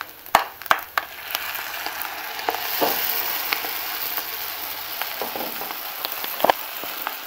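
Eggs cooking in a pan for aporreado, a steady moderate sizzle with sharp clicks and scrapes of a utensil stirring, a few louder taps near the start and toward the end.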